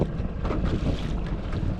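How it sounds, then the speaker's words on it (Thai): Strong wind buffets the microphone with a steady, roaring rush, mixed with wave wash on the wide, bay-like mouth of the Tha Chin river in Thailand, heard from a boat before fishing for snakehead. "ดูคลื่นครับผู้ชม"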